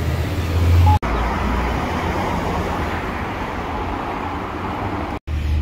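Steady roar of street traffic on Sunset Boulevard in Los Angeles, a continuous dense rumble of passing cars, buses and trucks, close and loud with brief cuts in between.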